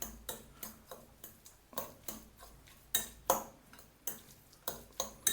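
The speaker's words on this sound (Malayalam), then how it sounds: "നന്നായിട്ടൊന്ന് മിക്സ് ചെയ്യാം" A spoon scrapes and taps against a bowl in a steady run of repeated strokes while egg mayo sandwich spread is mixed, the clinks close and fairly crisp.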